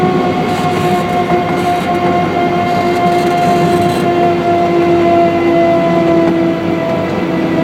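A grand-scale ride-on railroad train runs along its track at about 12 miles an hour, making a loud, continuous rolling rumble with a steady whining tone and faint clatter throughout.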